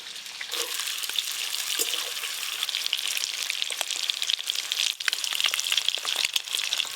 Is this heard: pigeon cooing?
no